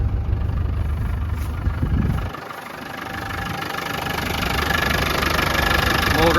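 A 1992 Land Rover Defender 110 200Tdi diesel engine idles with a steady low rumble and slight knock, briefly dipping then building back, heard near and alone.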